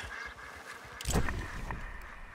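Ducks quack in the Red Dead Redemption 2 game world, a few faint calls then a louder burst of quacking and flapping midway, fading into softer calls afterward.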